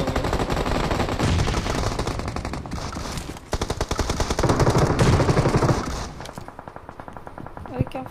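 Rapid automatic gunfire in the mobile game BGMI, dense bursts of rattling shots with brief pauses and a final lone crack, while a player talks over the shooting.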